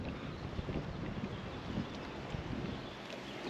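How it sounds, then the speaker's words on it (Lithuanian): Strong wind buffets the microphone outdoors beside the water while bream fishing at Birštonas, a steady, faint rushing roar with low gusty rumbles and no voices. "Nes vėjas stiprus ir nieko jau tu čia nepadarysi."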